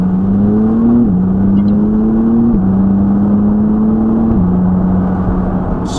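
A McLaren supercar accelerates hard, its loud engine note climbing steadily and dropping at each of three quick upshifts, heard from inside the car without talk.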